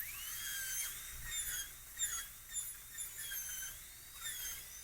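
A dental drill fitted with a 55 burr whines steadily at high pitch while cutting a class II tooth preparation, its squeal wavering and dipping slightly in pulses across the clip with no talking.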